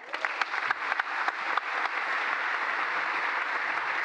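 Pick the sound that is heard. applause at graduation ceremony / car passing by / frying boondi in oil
applause at graduation ceremony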